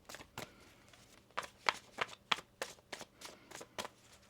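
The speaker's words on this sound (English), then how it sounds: "One more shuffle here." Tarot cards being shuffled by hand, a quick series of soft, crisp riffles and flicks in an uneven rhythm, close and fairly quiet with no talking.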